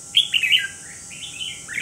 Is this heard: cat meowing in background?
no